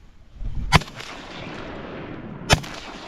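Two loud, close shotgun blasts about two seconds apart during a subsistence bird hunt in Alaska, with outdoor rumble and wind between them.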